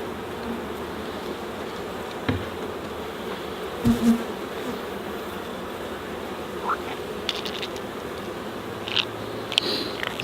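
Honey bees buzz around a beehive hit by small hive beetles, a steady low drone close by with a few brief knocks and handling sounds, plus faint snatches of voice.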